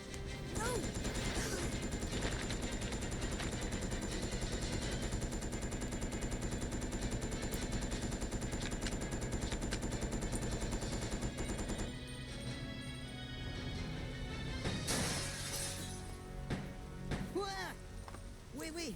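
Rapid machine-gun fire from the Resident Evil Code Veronica fan remake rattles on loud and dense for about twelve seconds, then breaks into a few scattered heavier shots, with a voice talking over parts of it.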